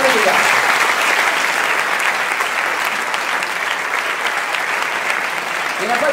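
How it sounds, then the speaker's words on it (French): Steady, dense audience applause fills a French comedy stand-up show, loud and continuous throughout without a break. "Ceux qui ont la main levée, on va les applaudir."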